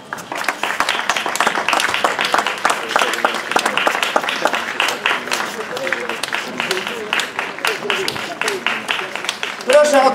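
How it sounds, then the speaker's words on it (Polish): Loud, dense applause from an outdoor crowd at a horse-drawn carriage competition award ceremony in Lubostroń, with steady rapid clapping that runs throughout and voices showing briefly near the end. "Gorące brawa"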